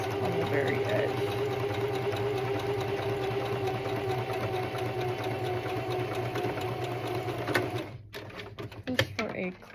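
Sewing machine stitching along the very edge of a swimsuit cover-up, a steady continuous mechanical hum that stops near the end, followed by a few brief handling clicks and rustles.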